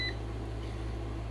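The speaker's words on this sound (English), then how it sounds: "I sure would like to know how to turn off the beep." An HV LV 2424 hybrid inverter running two window air conditioners gives one short, high electronic beep at the start, over a constant low electrical hum.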